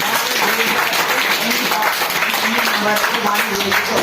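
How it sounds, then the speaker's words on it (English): Classroom clapping during a mathematics lesson on logarithms, a steady roar of many hands with some voices and cheering audible underneath, sustained and fairly loud throughout. "have a big clap"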